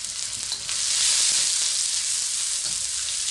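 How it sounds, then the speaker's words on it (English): Sliced onions and garlic hit hot oil for steak picado, giving a loud, steady, close sizzle that swells after a brief start and holds without any talking. "What I'm going to do is add these sliced onions here, and let's get those going."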